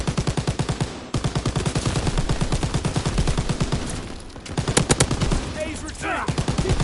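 Gunfire in the video game Call of Duty WWII, rapid machine-gun bursts hammering close and loud, with scattered single shots and battlefield noise, and voices talking underneath.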